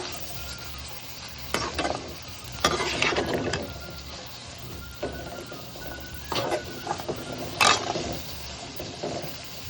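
A spoon stirs boiled green peas sundal with salt and grated coconut in a pan, giving soft scraping strokes and light sizzle in irregular bursts over a steady low background, close and moderately quiet.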